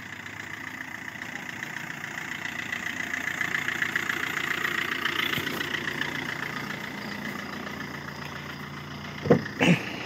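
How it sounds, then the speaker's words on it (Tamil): Car engine idling after start-up, a low steady hum that swells slightly in the middle and stays fairly faint, with a couple of sharp knocks near the end. "வண்டி ஸ்டார்ட் பண்ணி விட்டேன். வண்டி ஓடிட்டுருக்குது"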